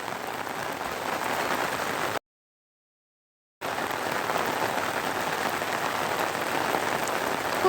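Heavy monsoon downpour pounds a rooftop terrace in a dense, constant hiss of close raindrops, cut by a short stretch of silence before the same steady roar resumes.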